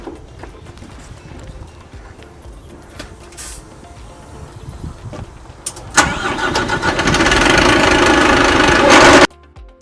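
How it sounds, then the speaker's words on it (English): A fire engine runs with its power takeoff engaged to drive the rear water pump. A moderate engine rumble steps up abruptly into a loud, steady, broadband roar as the pump kicks in, then cuts off near the end. "start the engine up, put the PTO in, power takeoff"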